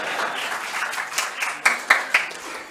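Audience applause at the EduWiki 2023 opening session conference, a light patter of clapping that builds into a few louder, sharper claps near the end.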